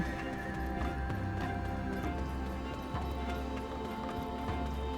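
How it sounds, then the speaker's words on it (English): A horse neighs and its hooves clip-clop at a gallop in the snowy Black Desert Online game world, a steady, close rhythm of hoofbeats layered over ambient game music without talk. "Okay, I have a horse."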